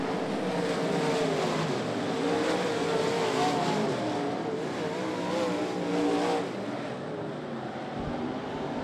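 Modified race cars roaring around Ponderosa Speedway during a heat race, a steady, loud engine drone with rising and falling revs as the pack passes, heard from the grandstand over a continuous crowd of engines.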